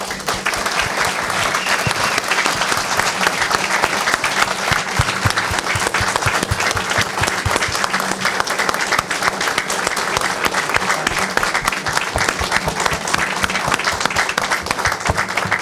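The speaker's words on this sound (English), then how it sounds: "will you please give them all a round of applause?" A town hall audience in Ward 8 breaks into sustained applause, a dense, even wash of many hands clapping steadily at close range for the whole stretch, with faint murmuring underneath.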